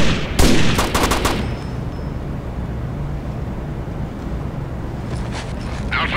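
Rainbow Six: Lockdown gunfire as a loud, rapid burst of automatic shots up close, then a fading rumbling tail before a few more scattered shots near the end; no voices.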